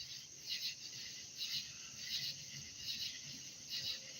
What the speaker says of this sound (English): you can hear these crickets around me.